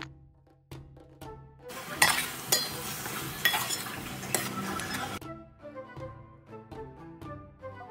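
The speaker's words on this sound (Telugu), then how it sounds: "ఇక్కడ మటన్ కుక్ అవుతుంది." Marinated mutton cooking in a pot on a stove, a steady sizzle and frying hiss with scattered clinks and scrapes of a utensil against the pot, close and moderately quiet.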